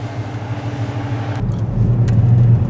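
A Dodge Challenger in sports mode idles with a deep, steady exhaust rumble heard from inside the cabin, then the engine note swells louder partway through, with no talking.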